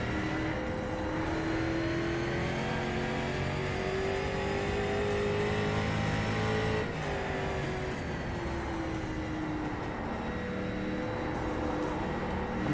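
A street stock race car engine in iRacing at USA Speedway in Lakeland, Florida, drones loud and steady, its pitch rising and falling with throttle changes, close and alone without talk.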